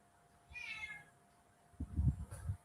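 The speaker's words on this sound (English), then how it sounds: "So you can hear that cat." A cat gives a single clear meow, close and moderately loud, followed by a short burst of low rustling noise.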